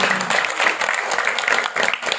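Dense, steady applause from an audience at a Marathi devotional kirtan, loud and continuous with no voices over it.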